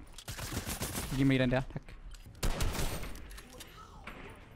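Bursts of rapid gunfire in Fortnite crackle in short volleys, with someone speaking Danish over the shots between bursts.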